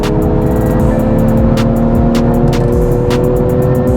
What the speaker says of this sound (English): That phenomenal grunt of that engine and the burbling sound of that exhaust